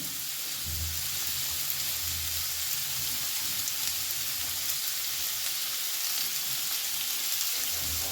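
Bottle gourd simmering in milk in a pan as it is stirred, giving a dense, even sizzle and hiss that holds steady throughout with no clear separate strokes.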